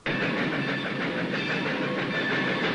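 A train runs along railway tracks, giving a loud, steady rumble with a continuous clatter of wheels on rails and no voices.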